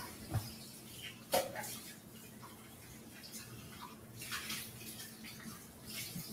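Food is rinsed under running water at a kitchen sink, giving a faint continuous trickle with a couple of light knocks and splashes.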